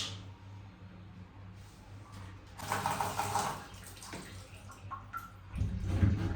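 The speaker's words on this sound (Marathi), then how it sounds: "क्रॉक्स कसे धुवायचे त्यासाठी आपल्याकडे ब्रश आहे" Crocs shoes are washed with a brush under running water, a steady gushing splash that swells and fades, with scrubbing noise and louder rushing water at the end.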